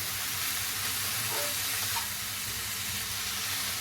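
Pumpkin leaves fry with chilli and onion in a pan while being stirred, giving a soft, even sizzle and hiss with a few faint scrapes and no talk.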